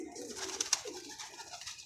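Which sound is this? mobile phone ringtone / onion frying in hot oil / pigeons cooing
pigeons cooing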